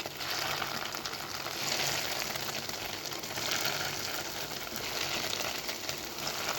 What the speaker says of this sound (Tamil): இப்போ மீதம் இருக்க ப்ரெட்டெல்லாம் நம்ம எண்ணெயில் போட்டு அதே மாதிரியே பொறிச்சு எடுத்துக்கலாம்